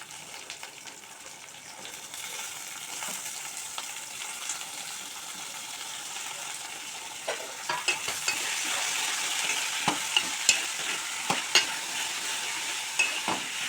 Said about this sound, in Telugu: ఆయిల్ వేడైంది, ఆనియన్స్ వేసుకుంటాం. ఆనియన్స్, పచ్చిమిర్చి వేసుకుంటాం.